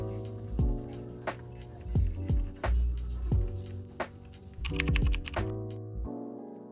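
Typing on a keyboard fitted with brown mechanical switches, a close run of soft tactile key clicks in irregular bursts over a steady low hum, with a quick flurry near the end.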